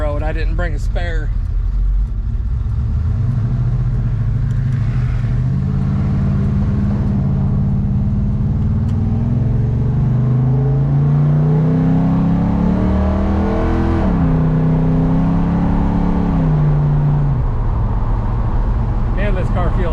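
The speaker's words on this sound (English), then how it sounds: "Man, this car feels good. It's a lot of fun to drive, I tell you." A 1979 Chevrolet El Camino engine drones loudly on a road drive, its pitch climbing through gears in rising and falling steps, while someone talks over the steady roar.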